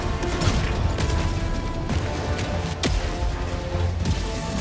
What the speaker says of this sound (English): Deploying sentry.